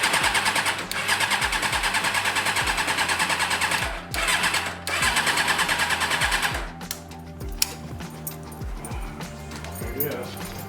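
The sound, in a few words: motorcycle engine cranking with choke on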